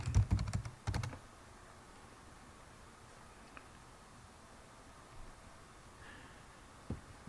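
A few quick keystrokes on a computer keyboard near the start while entering a school email address, then near silence with faint clicks and a soft tap toward the end.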